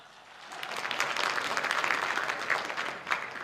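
Audience applause at a Rajasthan election debate stage, steady dense clapping from a crowd that swells and holds for several seconds at moderate distance, with no talk over it.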